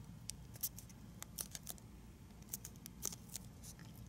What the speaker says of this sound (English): We're folding it right to the crease, and we want the fold to extend to this point.